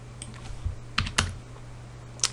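A few quick, light taps on a computer keyboard while typing Java code, irregular clicks close by over a faint steady hum.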